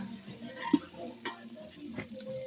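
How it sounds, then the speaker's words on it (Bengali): Potatoes frying in a pot for a meat curry at a family picnic, a faint sizzle broken by a few sharp clicks and knocks of stirring against the pot. "এই মাংসের জন্য আলু ভাজা হচ্ছে এখন।"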